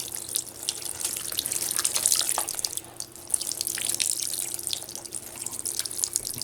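Water poured through a colander onto a potato planting in winter, a steady splashing patter of many falling streams and drips, close and continuous.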